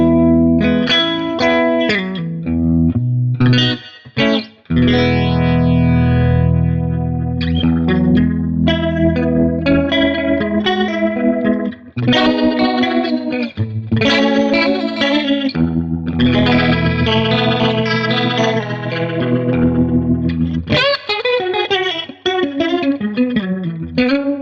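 Guitar played through a Boss MD-200 modulation pedal in rotary mode with the depth set to zero, giving loud, continuous chords and melodic runs with some overdrive and reverb, and no voices.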